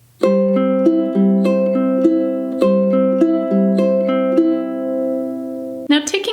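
A ukulele plays a fingerpicked pattern from a song at full song tempo, with steady plucked notes ringing together for about six seconds before a brief noise at the end.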